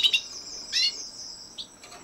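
Canaries kept indoors sing in short bright bursts, a few high chirps and trills spaced apart, fairly close and clear against a quiet room.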